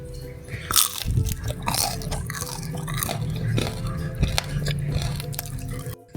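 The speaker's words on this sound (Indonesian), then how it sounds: "Tadi kalian sudah dengar sendiri suaranya saat aku gigit, renyah banget" Crisp, crunchy bites into spicy fried tempeh with kaffir lime leaves, several loud crackling crunches followed by chewing, close up with no talking.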